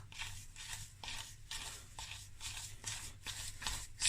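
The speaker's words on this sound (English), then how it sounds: "Okay, now we're just gonna stir." Lemon bundt cake batter is stirred in a bowl, producing quick, regular swishing and scraping strokes about twice a second, close and fairly quiet, with no talking.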